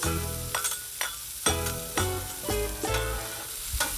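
Onions and peppers hit a Blackstone 22-inch griddle in bacon grease and fry with a loud crackling sizzle. Rhythmic spatula scrapes and taps come roughly every half second, with no talking.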